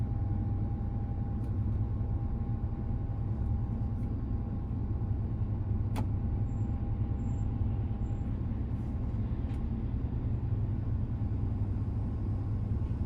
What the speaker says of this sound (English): Some sort of big crusher thing on a big Scania.